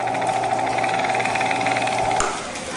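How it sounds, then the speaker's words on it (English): A drill press spins a coil form to wind wire for a homemade foxhole radio, giving a steady, loud motor whine with a rhythmic rattle that cuts off abruptly near the end, no talking. "now I'm just going to slide this over the drill press"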